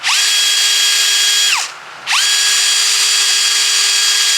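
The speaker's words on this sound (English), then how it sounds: "So just shorten my drill bit up for this one, push him through." A power drill with a shortened bit whines at high speed through camphor wood, cuts out for a moment, then spins back up and keeps drilling steadily, loud and close.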